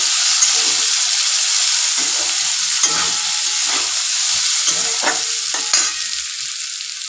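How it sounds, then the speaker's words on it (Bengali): A steady, close sizzle of pumpkin and potato frying with cashews and raisins, broken by several spatula stirs and scrapes through the pan, with no voices. "সব একসঙ্গে ভাজছি"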